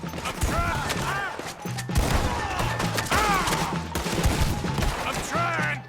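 Gunfire in the video game Red Dead Redemption 2 during a wagon fight, a dense fusillade of overlapping shots crackling continuously, mixed with shouting voices, game music and commotion.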